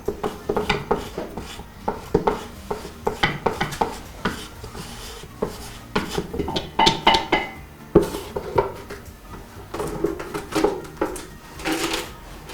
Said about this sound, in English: You're mixing everything into one bowl.